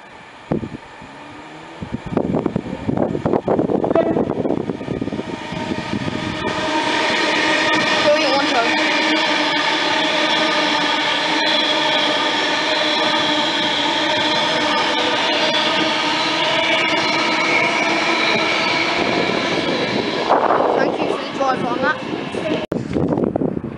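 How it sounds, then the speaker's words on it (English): A Virgin Trains Class 390 Pendolino electric train, unit 390010, runs through platform 2 at Rugby station on the West Coast Main Line, rising into a loud sustained whine and rushing roar for about twenty seconds before fading. "through platform number 2, we have a Virgin Trains 9:30 service from London Euston to Manchester Piccadilly"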